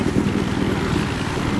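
Helicopter in the video game Battlefield Hardline, a loud, steady rotor and engine drone with a continuous low chopping throb and no pauses.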